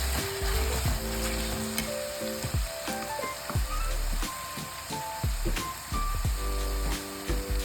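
Chicken pieces frying in a pan with a steady, loud sizzle throughout, broken by repeated clanks and scrapes of a spoon stirring against the pan.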